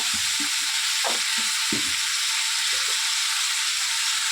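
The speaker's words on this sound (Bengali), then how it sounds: "এবার একটুখানি নেড়ে দেবো ভালো করে" Aloo posto with Bengali drumstick pieces sizzles steadily in a pan, a constant bright frying hiss with a few soft low scrapes and knocks of a spoon stirring through it.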